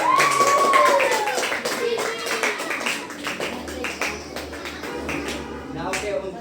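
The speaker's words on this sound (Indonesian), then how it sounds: "Oke, tepuk tangan." Children in a classroom clap their hands in a quick, uneven patter of many close claps, with voices talking over the applause.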